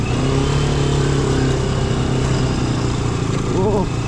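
A motorcycle rides along a red-soil forest road near Joypur forest in Purulia, its engine droning steadily and fairly loud with rushing wind noise, and a brief rise in engine pitch near the end.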